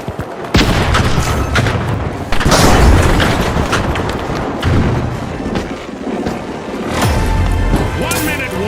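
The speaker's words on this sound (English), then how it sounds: "Frag grenade out!" Frag grenade blast and gunfire in a first-person shooter video game, with heavy booms and thuds at intervals, sharp bursts of shots in between, and loud background game sound throughout.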